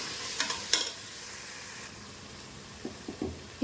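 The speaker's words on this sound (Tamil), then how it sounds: "இப்போ அதையும் நல்லா கிளறி விட்டாச்சு மசால் பொடியும்" Tomato paste and masala powder are stirred in a sizzling curry pan for goat intestine kuzhambu, a close, steady frying hiss broken by a few scraping spoon strokes against the pan, with no talk.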